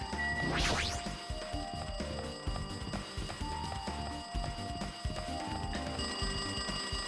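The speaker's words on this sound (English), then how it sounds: "Looks like the phone is ringing." A telephone rings in the video game Danganronpa 2: Goodbye Despair, a rapid repeating electronic alarm-like ring that continues steadily over layered game music.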